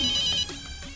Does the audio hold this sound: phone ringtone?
yes